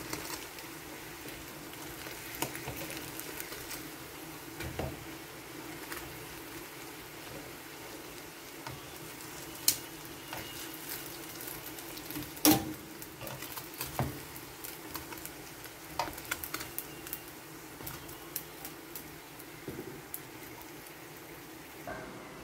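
Maruya, Espanola bananas frying in oil, a faint steady sizzling patter with occasional pops and crackles, alone without talk.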